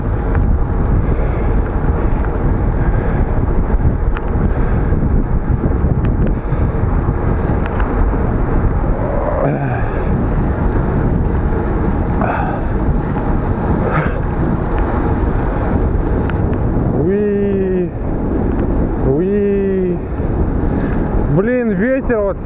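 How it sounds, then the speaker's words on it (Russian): Strong wind buffeting a clip-on microphone while riding on a road, a constant loud roar throughout, with a voice speaking briefly in the last few seconds. "Что за ветер?"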